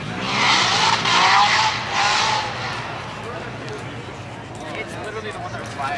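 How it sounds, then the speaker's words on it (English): Dodge Hellcat cars at a car show rev loudly with a harsh, squealing roar in bursts over the first couple of seconds, then fade into crowd noise and talk. "Hellcats over there yelling."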